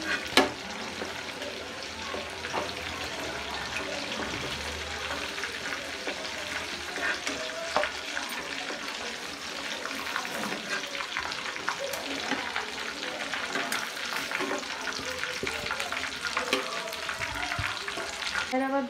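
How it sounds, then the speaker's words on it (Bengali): Meat pieces fry lightly in a pan for Hyderabadi dum biryani, a steady close sizzle with crackling pops and occasional stirring, continuous and even throughout. "এরকম হালকা করে সবগুলো একে একে ফ্রাই করে নেবো আমি।"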